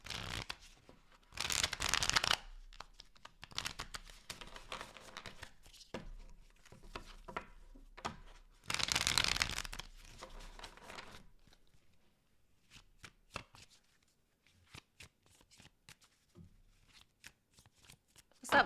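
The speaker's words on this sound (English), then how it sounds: "Two more shuffles for Sagittarius placements." Tarot cards are shuffled by hand in quick riffling bursts, two louder runs standing out from softer card handling and brief pauses, close and fairly quiet.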